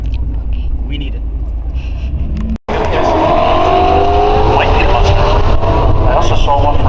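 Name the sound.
Ford Mustang and Ford Focus drag racing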